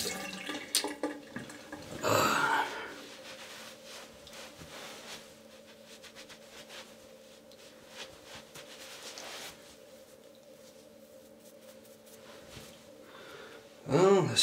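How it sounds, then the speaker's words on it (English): A razor is rinsed under a running tap mid-shave, a steady low water hiss with a louder splash of rinsing near the start and another burst at the end, with no talking. "All right, let's have a rinse."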